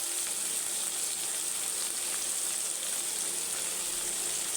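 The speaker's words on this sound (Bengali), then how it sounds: "এবার আমি চিংড়ি মাছগুলো দিয়ে দেব।" Shrimp frying in a pan with garlic, green chilli and turmeric: a steady, even sizzle that holds unbroken at moderate loudness, with no one speaking.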